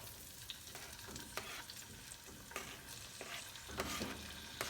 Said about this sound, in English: I'm going to take the tomato and we're just going to put it right in to the oil